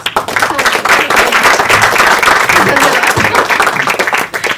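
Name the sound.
audience clapping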